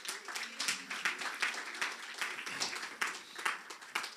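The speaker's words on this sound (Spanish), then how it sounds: "Denle un aplauso al Señor." Congregation applauding in a church service, a steady, fairly quiet wash of many hands clapping with dense, irregular claps throughout and no speech over it.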